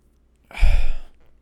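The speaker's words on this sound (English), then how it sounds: "Why am I yawning?" A single short, breathy yawn from a character in the video game Ace Attorney: Trials and Tribulations, voiced as a soft exhale that rises and fades within a second.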